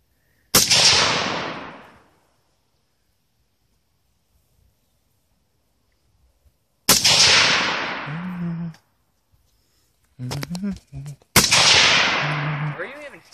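Gunfire during outdoor target shooting: three loud, sharp shots spaced several seconds apart, each ringing out and fading, with brief voices between them.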